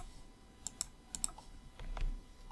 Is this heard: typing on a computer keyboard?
yes